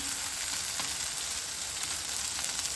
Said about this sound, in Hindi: यहाँ पर हमारा टमाटर और ओनियन जो है ना वो अच्छे से कुक हो चुका है